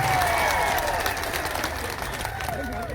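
A crowd at a political gathering in Kawant taluka claps in welcome for Chaitarbhai Vasava, with dense, continuous applause and a rising whistle-like tone running through it, and a voice faintly under the clapping.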